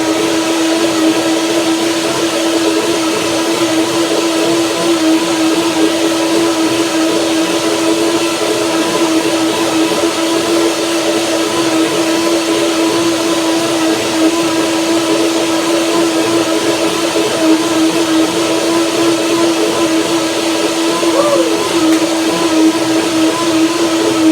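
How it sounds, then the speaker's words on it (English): A high-speed power blender, rated over 30,000 rpm, runs continuously on a second blend of soaked mango and banana, giving a steady loud motor whine with no talking. "And now I will do a second blending."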